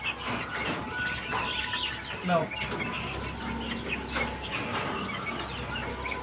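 Caged guinea fowl and chickens being fed give faint scattered clucks and chirps amid a noisy background, while a person talks nearby.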